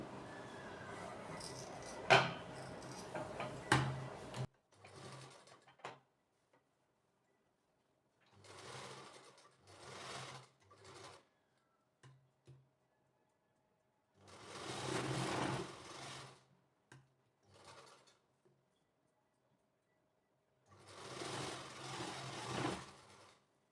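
A sewing machine stitches lace onto the front neckline of a small girl's frock, running in several short bursts separated by silences, close and clear, after an opening stretch of handling noise.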